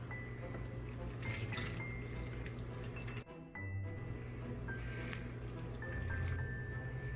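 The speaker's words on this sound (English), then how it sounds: "we'll be able to pour that into our jars way more easily" Vinegar brine being poured into pickle jars, a continuous close liquid stream with a short pause partway through, then steady pouring again beneath a faint background hum.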